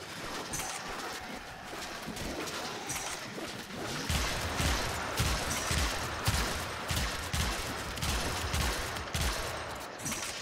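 Rapid gunfire in the sci-fi shooter Warframe, dense fusillades of overlapping shots and bursts, loud and sustained throughout with heavier thumping impacts in the second half.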